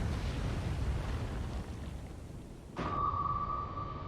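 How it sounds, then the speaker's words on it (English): A torpedo launches from a submarine in the naval warfare game Cold Waters: a broad rushing, roaring wash of noise cuts off abruptly and gives way to a steady sonar-like tone with a low rumble beneath. "Okay, torpedo away."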